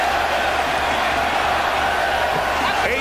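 Boxing arena crowd at an IBF title bout in Dortmund, Germany, a steady loud roar of cheering spectators filling the whole space, with a commentator talking over it.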